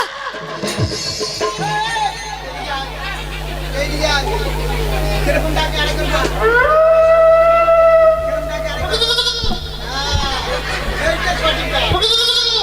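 During a Manasa Mangal folk song performance, a man imitates a goat's bleat with a loud, wavering, nasal cry, with a steady low drone underneath.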